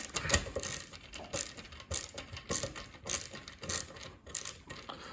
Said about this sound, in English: I just got a new screwdriver and it's a ratcheting, which is really neat